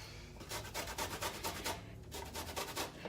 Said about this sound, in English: I just use the fine side of my grater.